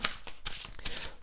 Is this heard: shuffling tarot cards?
yes